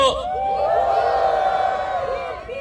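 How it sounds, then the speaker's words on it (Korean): A crowd at a Korean Democratic Party press conference and rally roars with loud, sustained cheering and whooping for nearly three seconds, a massed shout that swells and then slowly fades. "박수!"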